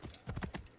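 Horse hooves clip-clop in Assassin's Creed Origins, a quick run of four or five soft, evenly spaced steps, faint and brief.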